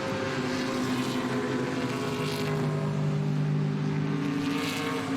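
A white Ford Mustang GT race car roars past at a circuit, a loud sustained engine drone with steady tonal whine and no break, heard throughout.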